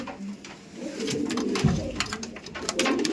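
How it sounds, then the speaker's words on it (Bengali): A pair of Madrasi pigeons in a pigeon-keeping loft coo in low, rolling murmurs, close and steady, with a few sharper clicks and light rustling mixed in. "এদিকে একটা ম্যাড্রাসি পেয়ার দেখাচ্ছি দেখুন ম্যাড্রাসি পেয়ার দেখুন"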